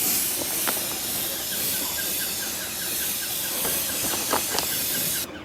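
A steady, broad hiss of spraying runs continuously at an even level, with faint squeaks and clicks underneath before it cuts off abruptly near the end.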